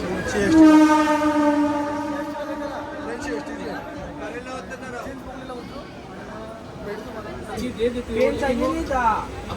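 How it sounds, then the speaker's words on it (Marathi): A loud train horn blares at the start, then the rumble of a moving Mumbai local train carriage continues beneath people chatting nearby. "फायनली आपण आता ट्रेनमध्ये बसलो."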